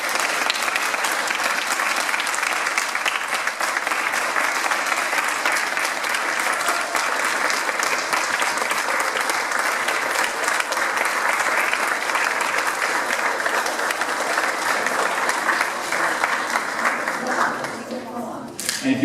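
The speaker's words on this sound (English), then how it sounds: "let's give Gary a big round of applause" Sustained audience applause in a hall, dense steady clapping that carries on at an even level for most of the stretch before thinning out near the end, with some crowd voices mixed in.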